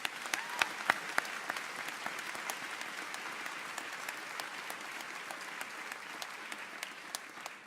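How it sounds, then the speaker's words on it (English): An audience at a 2019 convocation ceremony gives steady, sustained applause. Many hands clap together, with a few sharper claps standing out near the start. "Let's give all these people a big round of applause."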